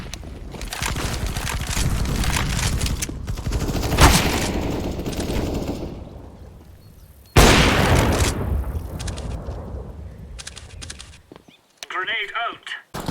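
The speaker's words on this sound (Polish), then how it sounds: "Deploying flashbang." Counter-Strike match on the Inferno map, with sustained bursts of gunfire and loud explosions from flashbangs and grenades, heavy and close with rolling tails. Game radio voices call out between the blasts.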